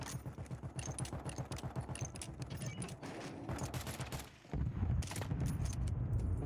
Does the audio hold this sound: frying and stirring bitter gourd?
no